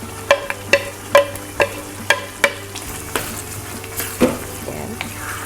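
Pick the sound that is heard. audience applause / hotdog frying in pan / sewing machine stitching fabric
hotdog frying in pan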